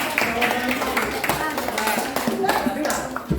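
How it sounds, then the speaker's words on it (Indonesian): A group of people clap their hands in a fast, steady patter for a few seconds during a classroom session, heard under overlapping talk and voices. "Ayo tepuk tangan dulu."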